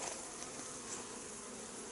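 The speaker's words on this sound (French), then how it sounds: "Vous voyez, les abeilles sont bien montées dans la hausse." Honeybees in a hive super, a dense steady buzzing swarm heard close but at low volume, continuous and even with no talking.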